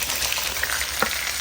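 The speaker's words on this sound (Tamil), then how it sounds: "இப்போ வதக்க போட போகிறேன்." Red onions sautéing in a pan for chilli chicken, a loud, dense, continuous sizzle and crackle with faint stirring scrapes, close and steady throughout, no voices.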